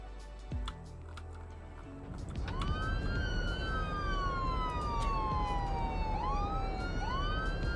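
In the city-building game Cities: Skylines II, an emergency vehicle siren rises and sweeps in long wailing cycles. It starts after a few seconds and stays loud and close over a low rumble of traffic.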